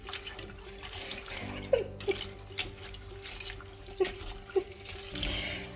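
Running tap water splashes in a sink while grasshoppers are rinsed, a steady close stream with intermittent sloshes and clinks of handling, alone without talk.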